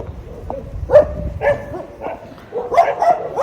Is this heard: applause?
no